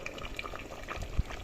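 A pot of squash and string beans simmering in coconut milk bubbles at a low, steady roll, with a single louder pop near the end.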